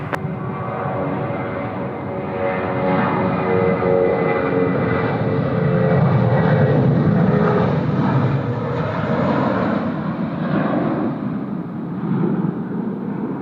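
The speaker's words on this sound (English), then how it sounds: "One of the most enjoyable aircraft to watch land. The lovely 767." A Boeing 767 lands at Sydney Airport, giving a loud, sustained jet engine roar that builds toward the middle and then eases off slowly, heard alone without talking.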